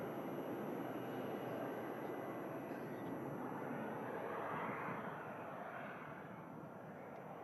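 A Pilatus PC-12 turboprop departs Manchester Airport, a steady broadband engine roar holding for several seconds at moderate distance and easing slightly toward the end, with no talk over it.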